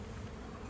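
Honey bees buzz in an active hive as its frames are lifted out one by one, a steady, soft, even drone that holds without a break.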